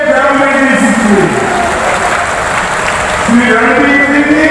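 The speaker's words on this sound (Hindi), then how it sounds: "जोर से ताली बजाइए जन्मदिन की" A crowd at a political rally in Mahendragarh, Haryana claps in a continuous, dense wash of applause while an amplified voice talks over it.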